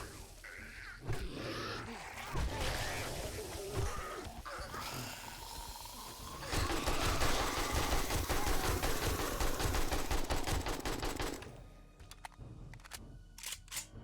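Sustained AK rifle fire in 7 Days to Die during a horde night, dense rapid automatic bursts with rattling rhythm running for most of the stretch, then tapering into a few isolated shots near the end.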